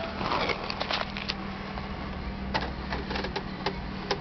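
A Pontiac Grand Prix GTP engine idles at a low, unsteady speed with an odd noise: rapid irregular ticking and clicking bursts over a continuous hum, recorded close to the engine.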